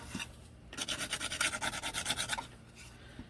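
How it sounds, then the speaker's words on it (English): Sandpaper rubs around the edges of Dollar Tree sign letters, a quick rhythmic rasping of about a dozen back-and-forth strokes, close and fairly loud, with quiet pauses before and after. "we're going to start to sand around the edges of the letters just to make them look a little bit more aged"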